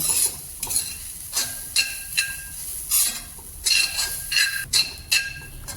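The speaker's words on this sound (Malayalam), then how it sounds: "ഇനി നമുക്ക് തേങ്ങയും കൂടി ഒന്ന് വറുത്തെടുക്കാം" Grated coconut dry-roasting in a pan for amrutham podi unda, stirred in repeated scraping strokes with a soft sizzle underneath, close and moderately loud with no talking.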